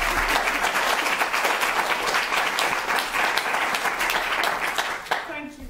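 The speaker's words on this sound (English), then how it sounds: "let's do an applause first" An audience at an academic ecology and social science assembly applauds after a talk. Many hands clap in a dense, steady patter that holds evenly, then thins out near the end.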